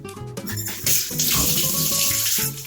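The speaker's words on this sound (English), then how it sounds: "I'm going to wash my hands." Tap water runs steadily into a sink while hands are washed beneath it, a close, continuous splashing rush with shifting tone as the hands move through the stream.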